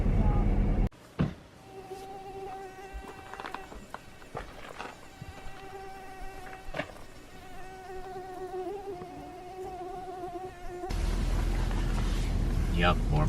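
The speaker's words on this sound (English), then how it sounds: "Yep, more mosquitoes." Mosquitoes whine steadily outdoors in Alaska, a thin high buzz of insects close to the ear that rises and falls as they pass, with a louder rush of noise near the end.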